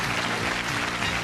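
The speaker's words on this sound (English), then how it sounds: "Let's give a nice round of applause." Studio audience applauding on a game show set, a dense steady wash of clapping filling the whole moment at even loudness with no voices over it.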